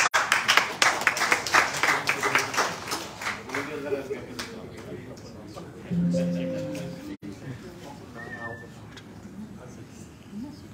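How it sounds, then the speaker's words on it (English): Audience applause at a live business training session, dense clapping loudest at the start and fading over several seconds, with a voice and some tonal sounds emerging as it dies down. "Can we have a big round of applause for everyone?"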